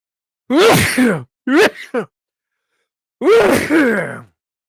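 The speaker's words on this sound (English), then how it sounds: "Oh my god, I had a sneeze." A loud, close sneeze with a sharp intake, followed by short breathy vocal sounds and another strained outburst after a pause.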